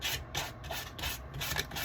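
Sandpaper rubbed back and forth in quick, steady strokes, giving a continuous close, scratchy rasp that swells with each pass, with no talking.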